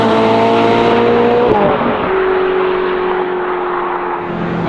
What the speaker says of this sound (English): It's great to be back out in the 458 again though.